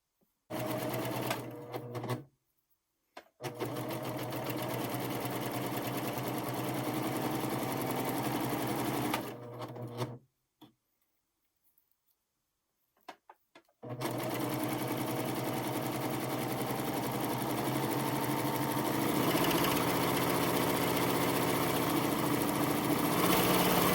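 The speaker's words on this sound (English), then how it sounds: "do the 3-thread flat lock stitch over the top for a decorative effect." A Pfaff Admire Air 7000 overlocker running a 3-thread flat lock stitch over piping with a cording guide, a steady close whirring hum in long continuous runs broken by brief pauses, with no talk.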